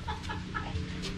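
A hen clucks softly amid a busy, noisy background, a few short clucks close by over a steady low rumble.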